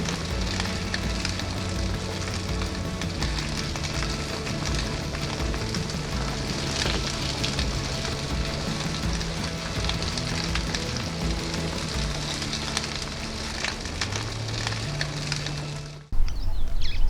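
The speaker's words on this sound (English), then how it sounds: "started a fire to cook some meat" Meat cooking over a campfire at a camp near Graaff-Reinet and Camdeboo Park, a steady dense crackle and sizzle holding for about sixteen seconds with a low background hum, ending abruptly in a brief louder burst.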